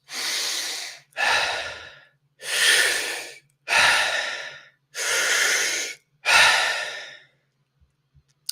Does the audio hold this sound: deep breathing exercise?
yes